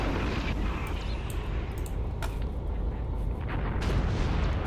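Tank cannon fire and heavy battlefield rumble during a Soviet mechanized offensive set in Afghanistan in 1988, from the video game Graviteam Tactics, a dense, continuous roar with sharp distant reports.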